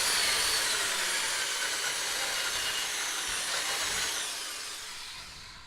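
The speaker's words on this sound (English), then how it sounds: "the large drill bit does just fine at cutting the hole initially" Drill with a large bit boring a hole into a wooden dance pad, a steady high whirring grind that holds for several seconds then fades as it winds down, with no talk.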